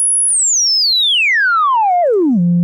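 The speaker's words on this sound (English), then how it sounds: "if I turn the resonance really loud, that's a loud and powerful sine wave" A loud, pure sine tone from the Erica Black low-pass filter pushed into high resonance sweeps smoothly downward from a piercing whistle to a low hum over about two seconds, with faint harmonics trailing alongside, alone and steady in level.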